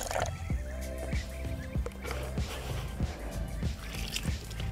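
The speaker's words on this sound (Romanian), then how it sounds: "Pun apa peste nadă" Water is poured over Dynamite Baits method-feeder groundbait from a measuring container, giving close, wet squishing splashes that repeat at a steady rhythm, with no talking.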